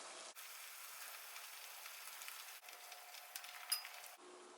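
Sliced beef sizzles in a pan for a Japanese egg and beef bowl, a steady, moderately quiet broadband hiss running almost the whole clip with small crackles, alone without talk.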